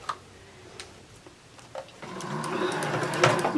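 A sewing machine runs a straight stitch seam joining two fabric pieces for a women's surgical cap, starting after a few light clicks and settling into a rapid, steady mechanical whirr close by.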